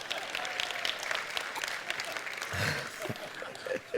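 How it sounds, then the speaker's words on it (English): Audience applause fills the room for the whole stretch, a steady dense wash of many hands clapping at moderate loudness, with brief voice fragments mixed in near the end. "I actually think Yorkshire just deserves a massive round of applause."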